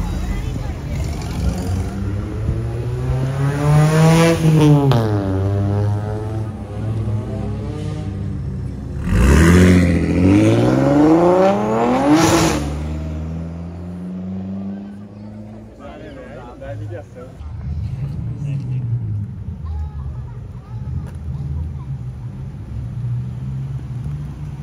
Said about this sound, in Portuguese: Saiu o carro daqui, Japa.